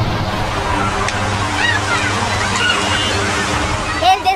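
Flooded Huaycoloro river in Lima, Peru, swollen by mudslides: a continuous loud rush and slosh of turbulent water fills the clip, with a faint whistle-like tone passing through.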